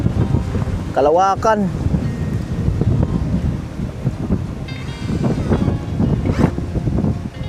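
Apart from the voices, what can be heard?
strong wind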